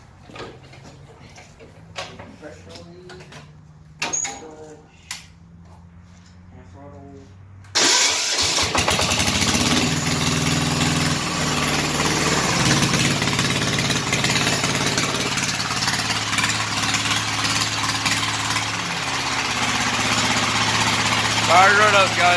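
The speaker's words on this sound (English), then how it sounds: "Got the old diesel over here. Haven't started in about a week or two, so we're gonna call this an old start, cold start" An old Sears diesel engine cold-starts after sitting a week or two: a few clicks and brief cranking, then it catches and settles into a loud, steady idle, with someone talking briefly before it fires.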